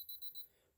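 A quick series of high-pitched thermometer beeps, about four short pulses in a row, fairly faint and alone.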